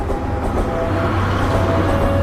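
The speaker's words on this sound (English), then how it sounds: "The train was venturing deeper into rural areas" A train runs on rails through rural countryside, a steady loud rumble and rolling drone with a faint tonal hum, continuous with no breaks or voices.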